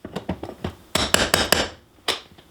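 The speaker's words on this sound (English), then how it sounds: "And I got a hammer right underneath it, and then start to pry it up there." Hammer and cat's paw prying staples out of a single-pane double-hung window frame, giving a run of sharp metallic taps and scraping clicks, close and loud, with a brief pause before a final strike.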